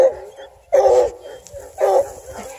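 A coonhound cross gives two loud, whiny barks about a second apart, close by, with a quieter whimper between them.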